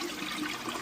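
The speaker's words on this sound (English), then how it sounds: "we will flush the toilet until it's nice and low" Water rushes steadily through a toilet as it flushes, draining the tank low, a continuous close gurgling wash with no pauses.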